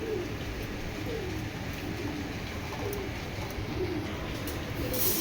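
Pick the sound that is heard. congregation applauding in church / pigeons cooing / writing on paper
pigeons cooing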